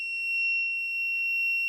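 A Raspberry Pi theft alert buzzer sounds a steady high electronic tone, with two brief pulsing bursts about a second apart, loud and close with nothing else over it.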